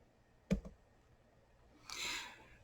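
A single computer mouse click sounds close and sharp, with a quick second tap just after it, then a soft brushing rustle follows in a quiet room with no voices.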